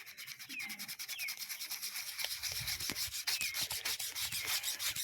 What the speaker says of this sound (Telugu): కొంచెం మీరు వాడే డైలీ యూజ్ చేసే పేస్ట్‌ను అందులో కొంచెం నిమ్మకాయ పిండుకొని, బ్రష్ తీసుకొని ఇప్పుడు పవన్ రుద్దుతున్నట్టు రుద్దండి.